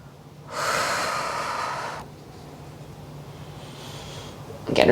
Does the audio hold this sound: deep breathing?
yes